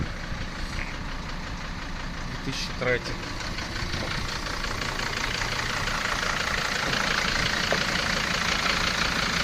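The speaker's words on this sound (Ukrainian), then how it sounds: "двигун працює" A truck engine idles steadily and fairly close, a continuous low rumble, while someone speaks briefly over it.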